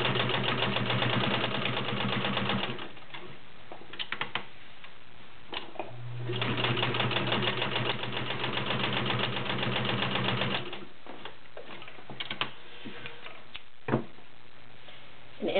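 A Kenmore model 1601 sewing machine stitches through six layers of Levi's denim with a size 16 needle, a steady close mechanical whir that surges louder, slows, then resumes with a few clicks.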